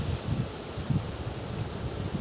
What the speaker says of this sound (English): Don't know how loud this is in the mic, but yeah, it's quite windy.